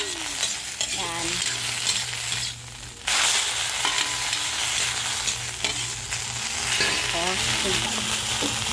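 Kangkong (water spinach) and tofu stir-frying in a pan, with steady close sizzling, scraping stirs and utensil clatter running throughout; a brief quieter gap partway through before the frying noise returns at full level.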